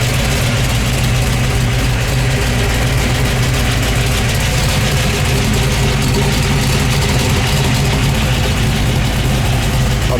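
A 1971 Camaro SS engine idles loud and close, a steady deep rumble with a low, even throb throughout and no speech.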